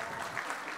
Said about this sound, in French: Voilà, on peut les applaudir bien fort